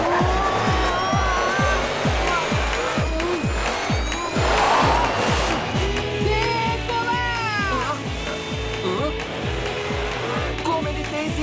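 A cartoon monster truck in a race revs hard with rapid, rhythmic engine pulses under excited character voices, then a whooshing burst and squealing effects.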